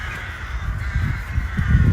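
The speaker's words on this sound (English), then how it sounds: "There's so many crows." Crows cawing in a small Polish town during an outdoor walk, a dense flock calling continuously at once, loud and near over street and wind noise.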